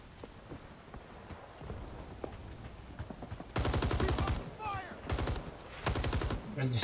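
Gun firing in a shooter video game: quieter clatter and scattered sounds at first, then three loud sustained bursts of rapid automatic fire separated by short gaps.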